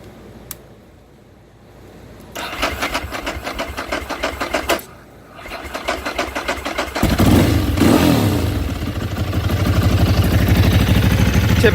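A 2005 Ducati 999 Superbike is cranked and started with the choke adjusted. A rapid rattling crank pauses and repeats, then the engine catches and settles into a loud, close, throbbing idle with rising revs.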